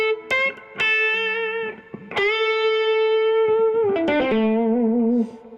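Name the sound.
electric guitar through pedal into two amps in tweed mode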